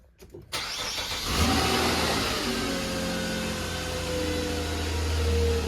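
A beater car's engine cranks and catches, then revs up high and settles into a steady, loud running hum close by.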